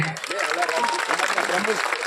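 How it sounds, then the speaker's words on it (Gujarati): An audience claps to welcome the president of the Halar Rajput community at a Ram temple consecration festival. The steady applause runs under someone speaking over it. "બધા તાળીઓથી વધાવીએ."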